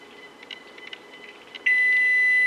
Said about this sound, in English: I'm going to set the timer for 10 minutes